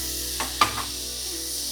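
Carrots and other vegetables stir-fry with soy sauce in a pan, a low, steady sizzle broken by a couple of brief spatula scrapes, with no one talking.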